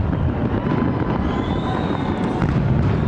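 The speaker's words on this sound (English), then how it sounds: "we're hearing the fireworks right now." Distant New Year's Eve fireworks rumble and crackle beneath heavy low wind-like noise, a continuous muffled roar with faint pops, no voices.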